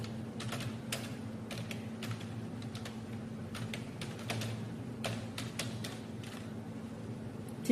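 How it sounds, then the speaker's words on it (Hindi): Steady typing on a computer keyboard while writing in Microsoft Word, a continuous patter of close, crisp key clicks at an uneven pace over a low constant hum, with no voices. "चलो हम लोग यहाँ पे नॉर्मल टाइप करते हैं"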